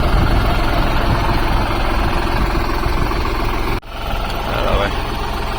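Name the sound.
tractor engine running for chickpea thresher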